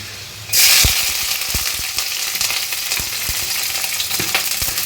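Paneer dish frying in a hot pan: a loud, steady sizzle bursts in after a brief quieter moment, with irregular scraping knocks of stirring running through it.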